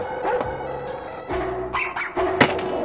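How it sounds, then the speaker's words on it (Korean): A dog barking nearby in a workshop while a pipe is being cut, with several sharp barks and yips in quick bursts over a low background hum. "개가 찾고 짖습니다"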